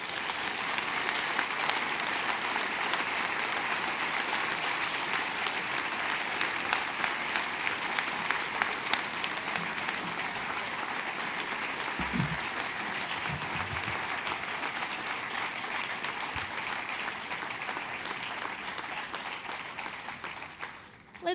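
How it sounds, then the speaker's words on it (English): A lecture audience claps after a talk on war, peace and food, giving sustained dense applause for about twenty seconds that stays even, then fades at the end. "Let's give another round of applause to our speaker tonight."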